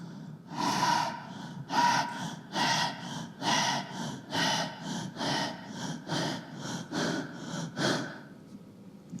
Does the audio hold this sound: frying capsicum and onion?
no